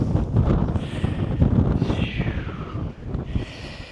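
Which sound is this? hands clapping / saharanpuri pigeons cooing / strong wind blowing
strong wind blowing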